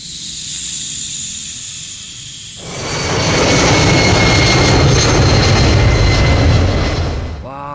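A toy fighter jet airplane outdoors in the grass gives off a roaring, hissing jet-engine sound that swells loudly after a quieter start and holds steady up close for several seconds.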